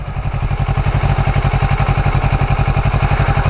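A Kawasaki ER6N motorcycle engine under way while shifting through the gears, giving a loud, steady, rapid low pulsing throb that holds close throughout.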